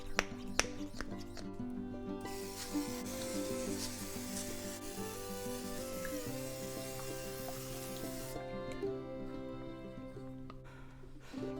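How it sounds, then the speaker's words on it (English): An olive oil sprayer mists halved acorn squash in a steady, close breathy hiss lasting about six seconds, set over soft background music with a few light taps before and after. "I have this sprayer with olive oil in it, so that's what I'll coat them with"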